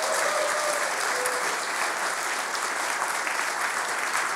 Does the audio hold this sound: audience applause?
yes